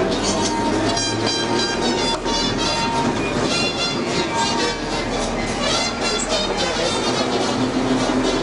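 Berlin S-Bahn Stadtbahner trains at Ostkreuz station roll through with dense, continuous rail clatter and squealing wheel tones, loud and near, while a voice talks over the noise.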